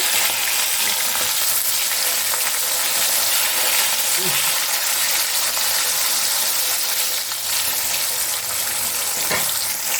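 Rohu fish pieces frying in hot oil, a steady broadband sizzle that stays loud and even throughout with a few faint clinks.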